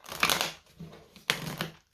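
Tarot cards shuffled by hand in two quick riffling bursts, crisp papery rustles close to the mic with a short gap between, loud and alone.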